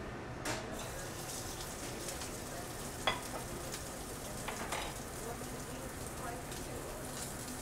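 Shrimp frying in a pan of virgin olive oil in a restaurant kitchen, a steady soft sizzle with a few sharper crackles and clinks of utensils, fairly quiet throughout.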